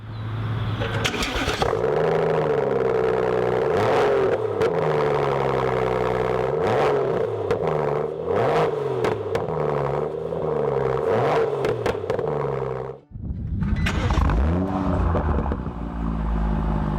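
A BMW M135i with an M Performance exhaust idles with a deep, steady burble from the exhaust, punctuated by several revs, cutting out briefly before restarting.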